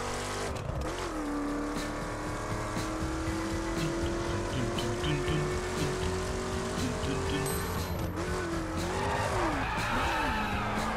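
A car in the PS4 racing game The Crew brakes hard and skids, giving a loud, sustained tire squeal that bends in pitch over a steady engine drone, with no talking.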